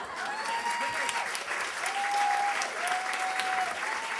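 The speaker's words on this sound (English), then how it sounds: "Another round of applause for Penny." A seated audience gives a sustained round of applause after a talk, the clapping dense and even, with a few sustained vocal tones and murmured voices sounding over it.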